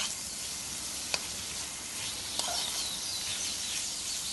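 Vegetables frying in a pan: a continuous broadband sizzle holds steady throughout, with two faint clicks of a utensil against the pan and no voices.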